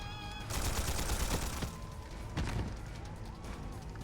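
An old antique gun fired in a video game, a rapid salvo of heavy blasts bursting out, then a second booming round, with rumbling echo between shots.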